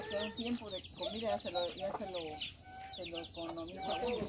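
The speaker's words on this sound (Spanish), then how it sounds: "Es bueno tener gallinitas en la casa," Hens cluck at a rural farmhouse, a steady run of overlapping close clucks and calls with varied pitch, mixed with other fowl sounds throughout.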